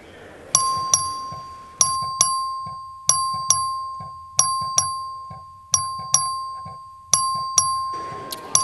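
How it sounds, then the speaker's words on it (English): Clerk's voting bell in a state House chamber, ringing a steady series of bright two-tone electric dings, roughly ten strikes at regular intervals, each decaying briefly, with faint room murmur beneath and no talk. "Record vote, the clerk ring the bell."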